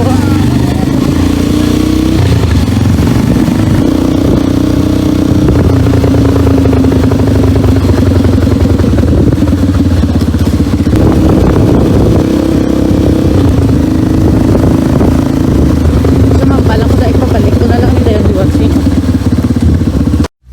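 A motorcycle engine runs steadily close by, a continuous mid-pitched drone with some clatter and slight revving throughout, while voices talk over it.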